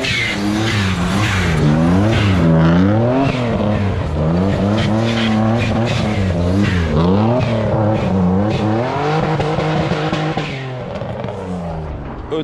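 A bi-turbo BMW 325i E36 race car revs hard and loud, its engine note rising and falling repeatedly through gear changes and acceleration over twelve seconds.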